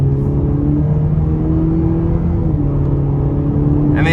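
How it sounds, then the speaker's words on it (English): A 2020 Cadillac CT4 Luxury 2.0T RWD accelerating onto an interstate, heard from inside the car: a steady, droning exhaust and engine note with a slowly shifting pitch, loud and continuous under road rumble. "the exhaust note is actually really good"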